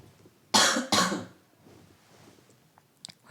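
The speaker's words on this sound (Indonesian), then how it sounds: "Ini saya pengen batuk ya sebentar." Two quick, close coughs in succession, followed by quiet breathing and a couple of small clicks.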